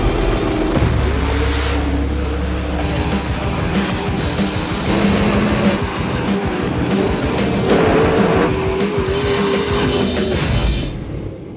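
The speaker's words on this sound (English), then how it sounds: "Tonight, I'm racing Jeff Lutz for the number 4 spot." A drag race car roars down the track at night, a loud continuous engine blast with tire noise that holds steady throughout before easing slightly at the end.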